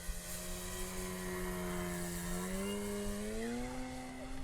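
An Avios Extra NG 300 RC airplane cruises at about half throttle, its motor giving a steady droning whine whose pitch slowly rises near the end, fairly faint and distant.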